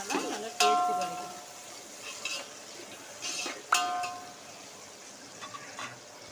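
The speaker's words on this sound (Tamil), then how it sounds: "வெங்காயத்தை போட்டு ஒரு 15 நிமிஷம் நல்லா வதங்கிட்டோம்." Onions fry in a pan for a vegetable biryani, a soft sizzle broken by two sharp metallic clinks of a spoon against the pan and scraping stirs in between.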